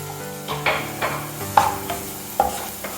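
Okra (ladies finger) frying with turmeric and chili powder is stirred in a pan, giving a few distinct scraping strokes over a steady close sizzle, with no talking.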